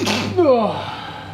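A single short sneeze burst indoors in a workshop, close and fairly loud, followed by a brief breathy exhale.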